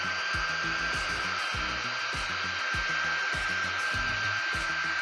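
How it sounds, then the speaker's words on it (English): An old hair dryer blows continuously on a craft project with pom-poms, a steady high whine and airy hiss, while low rubbing and tapping noises recur underneath. "So I'm just gonna blow dry it."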